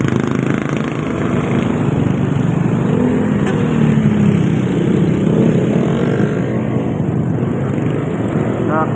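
A parked motorcycle's engine runs steadily at a low rumble for the whole stretch, close by and continuous, mixed with street noise on a busy roadside.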